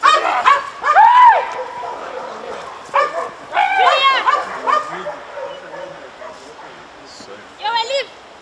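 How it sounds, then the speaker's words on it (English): German Shepherd police dog barking and yelping in several loud bursts with whimpering between, close by, with people talking faintly underneath. "under instructions, a German Shepherd charges towards him"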